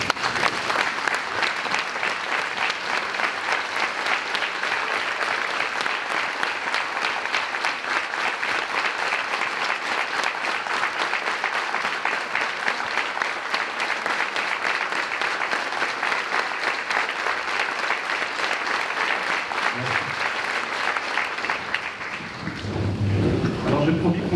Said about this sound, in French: je vous propose de vous lever et de l'applaudir très chaleureusement une nouvelle fois